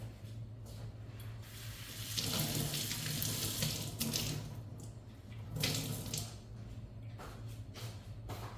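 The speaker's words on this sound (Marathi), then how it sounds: "आता हे फक्त व्यवस्थित पाण्यामध्ये थोडंसं मी भिजवून घेणार आहे" Water splashes and runs as an old T-shirt cloth is soaked for wiping a kitchen counter, a steady wash with louder surges, alone and fairly faint.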